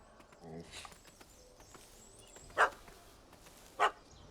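A dog in The Witcher gives two sharp barks a little over a second apart, set against faint ambience and talk.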